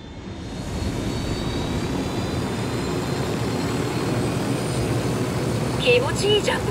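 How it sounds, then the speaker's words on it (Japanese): Helicopter in the video game Ghost Recon, a steady loud engine and rotor roar that builds and holds, with brief voices near the end. "よし、ヘリを用意したぞ。"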